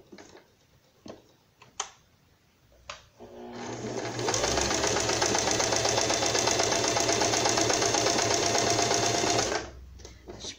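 After a few light clicks and taps, a sewing machine runs steadily for about six seconds, stitching a seam on a raglan-style pet dress, a close, even mechanical whir with no talking over it.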